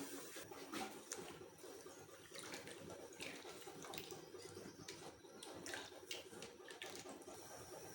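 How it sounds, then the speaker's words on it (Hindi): Water pours steadily into a mutton karahi pot while cooking, a continuous close splashing rush running the whole time with no speech. "तो तकरीबन हमने इसमें बड़े 2 कप हम इसमें पानी शामिल कर रहे हैं।"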